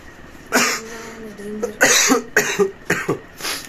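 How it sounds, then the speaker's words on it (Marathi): Several sharp, harsh coughs in separate bursts, close by, with short pauses between them and no talking. "खोकला चालूच आहे."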